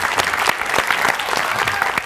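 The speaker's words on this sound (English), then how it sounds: "let's give an applause for that" A studio audience applauds during a talk-show conversation, giving a short burst of steady, close clapping from a small crowd with no talk over it.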